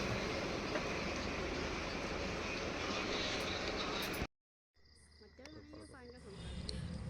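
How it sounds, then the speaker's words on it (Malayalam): Loud rumbling train noise with clattering fills the first few seconds at a railway station at night, then a sudden drop to a quieter scene with distant sounds and faint voices. "ഇത് ഖത്തറിലെ റെയിൽവേ സ്റ്റേഷനാണ്"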